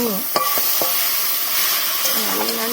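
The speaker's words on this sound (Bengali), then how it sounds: "চিংড়ি মাছটাকে ঢেলে দেবো। ঢেলে দিয়ে নাড়িয়ে" Shrimp poured into hot oil crackle and hiss steadily in a pan while a spatula stirs and scrapes in several quick strokes, close and continuous.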